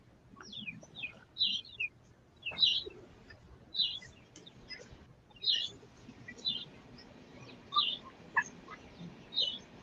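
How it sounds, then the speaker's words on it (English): Turkeys behind a house gobble and call in repeated bursts about once a second, moderately distant, with faint background hum. "I have turkeys behind. That's what you hear a lot."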